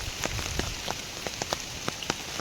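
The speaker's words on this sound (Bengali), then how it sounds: "কিন্তু ঝড় বৃষ্টি হচ্ছে বন্ধুরা" Storm rain falls steadily outdoors among mango trees, a dense even patter with scattered sharper drops striking nearby surfaces.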